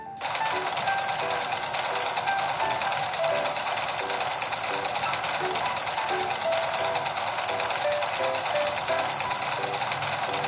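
A sewing machine stitches doll clothes for a fairy doll, a steady, continuous mechanical whir and rapid needle chatter running at even loudness throughout, with no talking.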